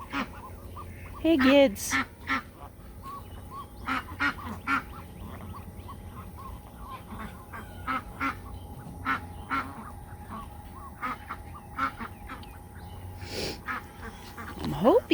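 Mixed farmyard flock of ducks and geese calling, with scattered quacks and honks spread through the scene, moderately near, alongside a brief spoken greeting and occasional other voices.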